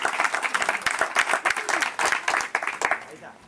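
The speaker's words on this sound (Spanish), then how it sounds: "Un aplauso para el niño." An audience applauds a child at a community preschool education event, a dense burst of clapping throughout with voices mixed in beneath it.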